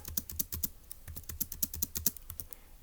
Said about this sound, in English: So let's type it up.